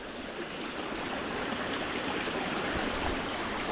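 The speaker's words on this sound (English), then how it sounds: "See, the whole side of the trail is a river." Rain-swollen stream rushing beside a hiking trail on Vermont's Camel's Hump after a week of heavy rain, a steady, dense roar of running water, close and loud, continuous throughout with no voices.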